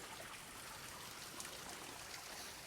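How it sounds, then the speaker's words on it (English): Faint, steady trickling of a small waterfall, a constant soft splashing hiss with no voices. "Got like a little waterfall."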